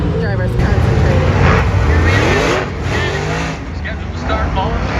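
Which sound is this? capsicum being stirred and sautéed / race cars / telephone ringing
race cars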